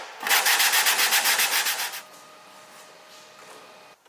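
Sandpaper scuffs back and forth across a surface to prep it for gluing a TRD wing onto an AE86, about a dozen quick, loud rhythmic strokes over two seconds, then quiet room tone.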